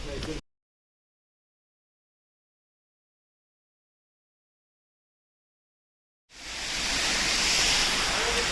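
A waterfall at Rock Garden Chandigarh roars in as a steady, loud broadband rush after a long stretch of near silence, continuing to the end without talk.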